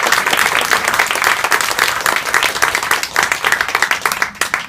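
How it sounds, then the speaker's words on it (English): An audience at a San Diego journalism awards ceremony breaks into a big round of applause, loud dense clapping from many hands that stays full before thinning slightly toward the end. "Big round of applause."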